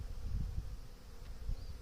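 Honeybees buzz close at a hive holding split colonies with Russian queens, a low continuous droning hum without any voices.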